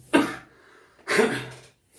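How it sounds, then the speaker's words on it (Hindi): Two harsh, close coughs about a second apart, loud and abrupt, with nothing else around them. "एक बार खांसी स्टार्ट हो जाती है तो कंटिन्यू रहती है।"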